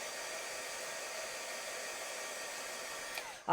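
A steady, whining blower drones at constant pitch and level, then cuts off abruptly near the end; a very old hairdryer-shaped heat gun.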